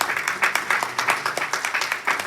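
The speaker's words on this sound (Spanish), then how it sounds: "Démosle un aplauso al Señor." A church congregation claps in a brisk, somewhat rhythmic burst of applause, fairly close and lively, without talking over it.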